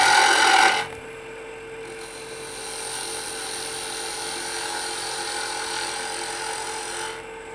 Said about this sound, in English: I'm going to be using a 1/2 inch bowl gouge here. I'm going to go ahead and turn my speed up just a little bit.